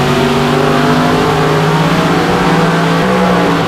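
A Nissan Maxima engine on a dynamometer sweeps from 4,000 to 6,500 rpm in a loud, steady, rising rev with strong harmonic engine tones throughout, close and continuous with no talking.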